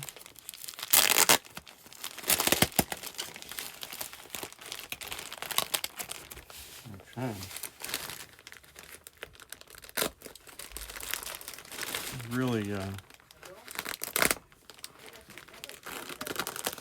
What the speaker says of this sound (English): You're probably very excited to see me unwrapping the paper here.